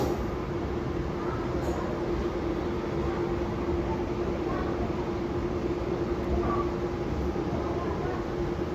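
An Indian Railways MEMU train arrives at Godhra Junction as a steady, continuous rumble of wheels and carriages, with a faint steady tone running through it at even loudness throughout.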